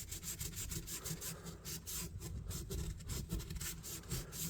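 Debris scraped out from inside an Imperial peanut pocketknife, a close, quiet, rhythmic rasping and scratching repeated in short strokes, no talk.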